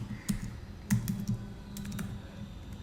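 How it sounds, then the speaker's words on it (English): Typing on a computer keyboard, with close, quick key clicks that come in short irregular bursts. "and type in the formula"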